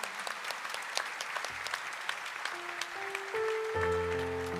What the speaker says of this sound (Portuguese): Aplaudamos a palavra do Evangelho.